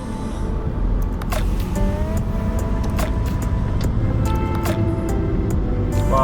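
Cars pass on a wet road in the Scottish Highlands in rain and wind, heard from a Scania truck. Steady, loud road and engine rumble with tyre hiss runs throughout, and brief swishes mark the passing vehicles.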